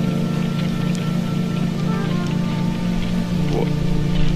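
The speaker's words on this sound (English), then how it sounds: "It's still raining." Steady rain falls in the video game A Dusty Trip, a constant dense hiss with a low hum beneath it that holds evenly throughout.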